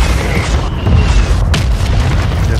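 A heavy mortar shell bursts in a first-person shooter video game, a deep booming explosion that rumbles steadily through the short stretch, with a sharper crack near the middle.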